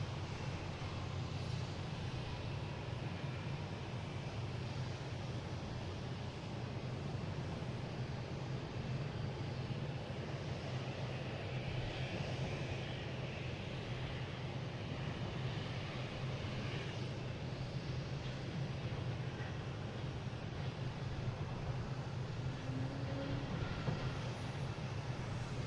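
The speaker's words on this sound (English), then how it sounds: "We have a JetBlue coming in from San Diego, an A321neo, landing on 4 right" A JetBlue Airbus A321neo arriving from San Diego lands on runway 4 Right at Boston Logan, a steady, sustained low jet roar that holds at constant loudness throughout, with broad engine rumble and no voices.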